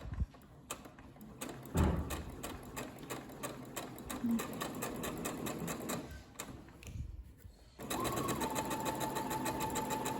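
A sewing machine stitches the second seam of a French seam, a steady close mechanical whirr with a brief pause near the middle before it resumes running.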